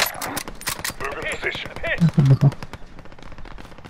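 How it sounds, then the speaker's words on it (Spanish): Rapid gunfire in Warzone Resurgence crackles in quick bursts while a voice talks over it, with a few heavier thumping shots near the end. "Hay muchos balazos."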